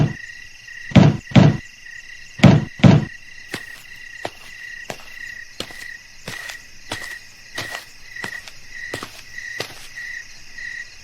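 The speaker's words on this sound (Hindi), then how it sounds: "तभी कोई घर का दरवाजा खटखटाने लगा।" Knocking on a house door sounds as two pairs of loud, close, thudding raps, followed by a run of lighter evenly spaced taps over a steady night chorus of crickets and frogs.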